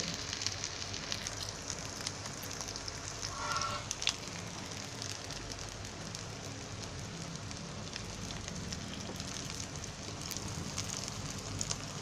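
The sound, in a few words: corn cutlets frying in oil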